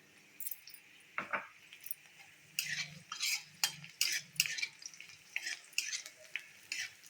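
Dried red chillies go into a pan of frying garlic for a spinach fry, heard as soft sizzling under a series of quick metallic clinks and scrapes of a spoon against the pan, fairly quiet and close.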